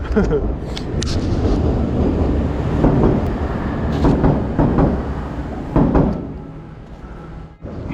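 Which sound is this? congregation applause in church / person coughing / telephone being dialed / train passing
train passing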